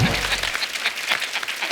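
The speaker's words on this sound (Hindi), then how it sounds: "तालियां मार दो इसमें।" Studio audience applause on a Hindi comedy talk show, dense clapping throughout after a brief low tail of voice or music at the start.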